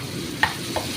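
Prawn and potato curry sizzling in a pan over high heat as it is stirred, with two brief scraping strokes over a steady soft fry.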